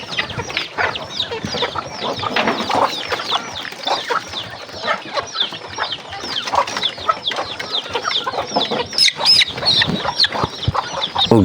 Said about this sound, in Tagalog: nagpakaon po si Idol Virgilio sa mga manok mga idol no